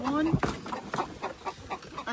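Jubilee Orpington chickens cluck in a pen, a rhythmic series of close, soft clucks about every quarter second, with a brief higher call at the start.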